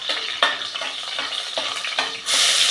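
Curry leaves and garlic cloves fry in two spoons of hot oil for a jackfruit vegetable dish, giving a steady close sizzle with soft stirring scrapes that swells louder near the end.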